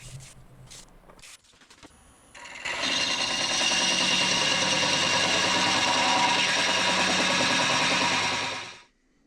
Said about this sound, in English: I'm using a power sander here just to make it a little bit quicker